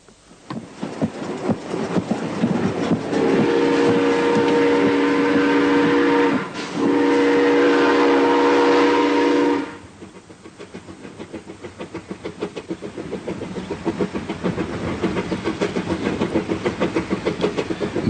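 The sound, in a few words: steam train running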